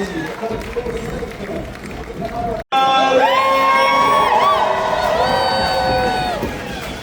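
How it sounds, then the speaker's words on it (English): A rodeo crowd at River Ranch in Florida cheers and whoops loudly in the stands. Whistles and yells rise above a steady roar that follows a brief cutout. "put a big consolation round of applause for each and every one of them"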